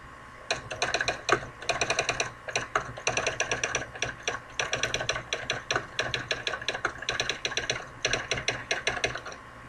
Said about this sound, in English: I used to love the sound of electric typewriters